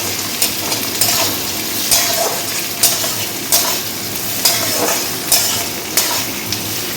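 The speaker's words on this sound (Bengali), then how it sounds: "সব কিছুকে খুব ভালোভাবে নেড়ে নেব।" Chopped onion and chili fry loudly in a pan with whole cumin, giving a dense sizzle broken by a regular series of scraping stir strokes, roughly one every second, close up.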